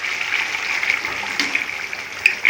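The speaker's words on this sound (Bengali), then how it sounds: "গোলাপ জল দিলাম" Rose water is poured into a pan of masala paneer, making a steady, fairly loud trickling stream that runs unbroken from start to finish.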